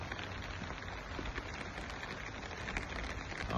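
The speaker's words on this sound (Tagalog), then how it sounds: "maulan ngayon dito sa Calapan" Steady rain falls outdoors in Calapan, a dense, even patter of drops on surfaces, faint and continuous throughout with no voices.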